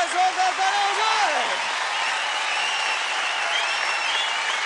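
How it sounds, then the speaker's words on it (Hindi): Studio audience applause for a dancer on a televised dance competition grand finale stage, steady and sustained throughout, with a voice speaking over the opening moments. "क्या बात है, जोरदार तालियां मेरी उड़ी के लिए।"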